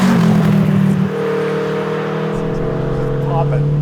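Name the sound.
1983 Renault R5 Turbo 2 engine growling while driving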